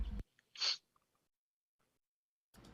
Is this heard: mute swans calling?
no